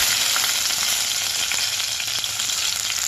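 Onion pieces fry in a pan for a potato curry, a loud, steady, dense sizzle that fills the whole stretch close up, with no talk over it.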